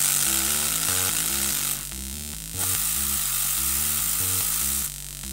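Three Super Hard On distortion modules chained in a modular synth produce a harsh, buzzing, heavily distorted note sequence with a gritty noise layer and brief dropouts.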